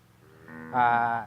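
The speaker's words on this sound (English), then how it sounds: "Here we keep Boran type of cattle for beef." Boran beef cattle on a farm give a single low moo that swells to a louder, close call for about half a second and then fades.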